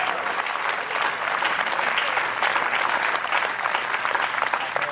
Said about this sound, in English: another round of applause for our future soldiers and their families